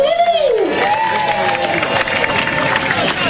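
A crowd at a Mardi Gras parade in Basse-Terre cheering and applauding loudly and continuously, with whistles and shouts rising over dense clapping.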